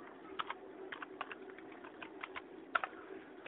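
Command typed on a computer keyboard while drafting in AutoCAD: a quick run of close, crisp key clicks in an uneven rhythm, with no talking.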